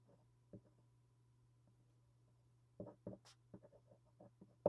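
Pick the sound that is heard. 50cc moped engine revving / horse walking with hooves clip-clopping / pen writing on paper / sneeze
pen writing on paper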